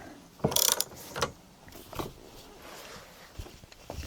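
A wrench ratchets in a few separate clicking bursts while tightening a press to force suspension bushings into their mounts on a BMW E30 or E36, close and fairly faint with quiet pauses between.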